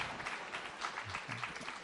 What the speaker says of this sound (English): Yeah, keep applauding for that.